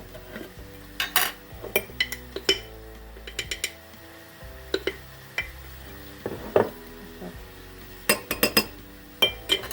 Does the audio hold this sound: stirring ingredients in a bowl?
yes